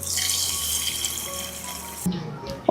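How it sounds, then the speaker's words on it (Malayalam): Water runs into a bowl of roasted split green gram as it is washed, a steady tap-like stream for about two seconds that cuts off, followed by a few close clattering knocks. "വെള്ളം ഒഴിച്ച് ഒന്ന് കഴുകിയെടുക്കാം."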